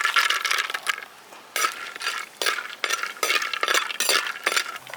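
Cashews fry in 200 grams of ghee in a hot pan while being stirred, producing repeated bursts of scraping and clinking from a utensil against the pan over a soft, faint sizzle.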